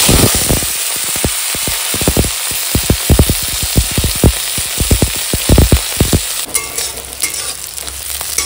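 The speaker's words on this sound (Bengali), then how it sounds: "দেখো এখন পেঁয়াজ কলিটা হালকা ভাজা হয়ে গেছে কাঁচা লঙ্কা আর কালো জিরের সঙ্গে" Onion greens frying in mustard oil with slit green chillies and nigella seeds, a steady close sizzle broken by frequent sharp scrapes and clacks of stirring, with a louder burst of sputtering near the end; no one speaks.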